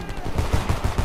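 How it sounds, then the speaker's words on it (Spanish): Machine gun fire from the war game Homefront rattles out in a steady, rapid burst, loud and dense with a heavy low-end thump under each shot. "¡Ametralladoras, primera planta!"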